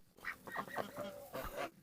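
Chickens clustered around a dog in a farmyard give a run of short, nasal clucks and squawks in quick succession, fairly close and loud, with no talk over them.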